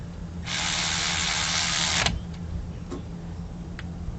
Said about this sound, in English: let's tighten that bottom bolt as well